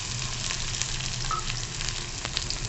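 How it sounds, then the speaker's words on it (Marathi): Cumin, mustard seeds and onion frying in hot oil for a beetroot vegetable dish, a steady close sizzle with faint crackles and pops, no voices. "आपलं तेल तापलेलं आहे आता आपण जिरं मोहरी कांदे"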